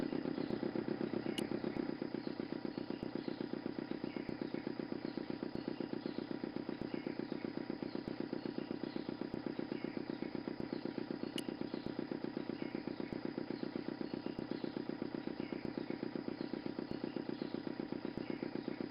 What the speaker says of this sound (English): The motor spluttered into life.